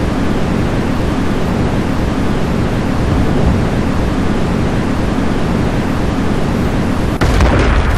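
A roaring fire attack explosion in a video game, a dense, steady rumbling blast that fills the whole span loudly and alone, with a brief crackling burst near the end.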